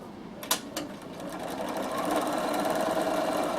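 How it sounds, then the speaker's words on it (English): A Bernina sewing machine stitches a test sample of fabric at an angle, starting with a few sharp clicks before settling into a steady, close mechanical whirr of rapid stitching. "So I'm just going to stitch on an angle on this one and just try it."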